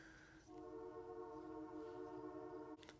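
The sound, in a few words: passing train outside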